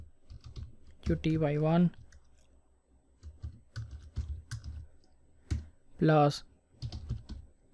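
Code being typed on a computer keyboard for a PHP sales form, steady clicking keystrokes heard up close beneath someone speaking at intervals.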